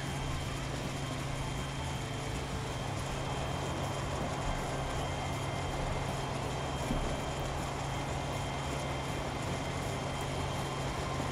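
A train in the video game Transport Fever runs along a European line with a continuous, steady rumble and hum of wheels and engine, even and unbroken throughout.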